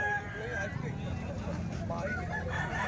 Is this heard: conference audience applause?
no